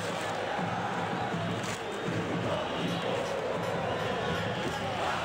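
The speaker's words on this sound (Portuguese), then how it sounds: "a torcida está cantando" Crowd of football fans chanting and singing in a stadium during a Brazilian Série B match between Botafogo SP and Sampaio Corrêa, a steady dense roar of voices filling the whole stretch with no clear breaks.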